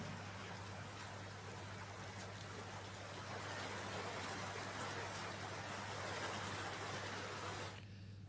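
Steady rain falls with flowing water on streets flooded around shops and a collectorate office, a dense continuous wash that stops abruptly near the end.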